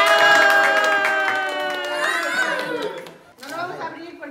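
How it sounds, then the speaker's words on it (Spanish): A family at Christmas present opening claps and cheers together, a loud burst of mixed voices and applause with children shouting, fading into chatter before a short new swell near the end. "¡Un aplauso!"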